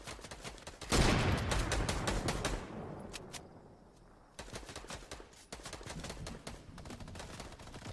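Minigun fire in a Fortnite match: dense, rapid-fire bursts of gunshots rattle continuously, with a loud burst near the start, a brief lull, then more sustained fire, no talking.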